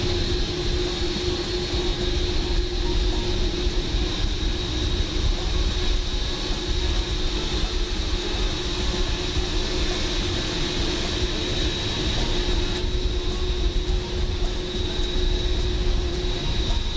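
A heavy, fully loaded airliner in Microsoft Flight Simulator gives off a steady, dense engine drone with a constant whine, holding level and unbroken throughout with no voices.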